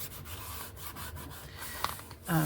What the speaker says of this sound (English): I'm using the scrubby because it's easier than looking for my sandpaper